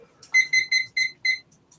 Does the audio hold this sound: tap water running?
no